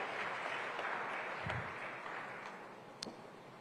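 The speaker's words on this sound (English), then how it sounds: "A big round of applause for her as well, please." Applause from the audience at an African food systems forum, a steady, fairly faint wash of clapping that carries through the whole moment with little else over it.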